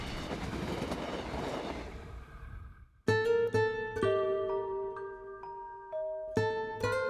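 A train on the Gyeongjeon Line in South Korea rumbles steadily along the tracks, a dense continuous roar that fades away, followed by sustained ringing tones.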